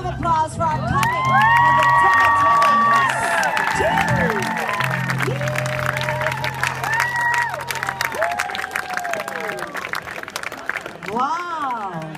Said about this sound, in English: How about a round of applause for our comic?